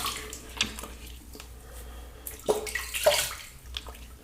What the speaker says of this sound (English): All right, I'm gonna rinse.